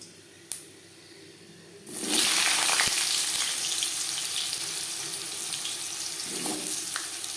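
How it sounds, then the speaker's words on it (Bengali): Potato pieces dropped into hot oil seasoned with bay leaf and Bengali five-spice for a rohu fish curry: a single clink, then a sudden loud burst of sizzling that stays strong and steady, with occasional stirring scrapes. "তেজপাতা 5 ফোড়ন 15-20 সেকেন্ড ভেজে নেওয়ার পর দিয়ে দেবো আলু"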